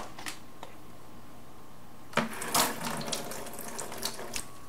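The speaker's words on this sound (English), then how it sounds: "And I'm going to cover this with water and just let it soak." Water is poured from a tap into a 5-gallon bucket holding a compressed seed-starting brick, a soft trickle that swells into a louder splashing pour, with a few clicks and clunks in between.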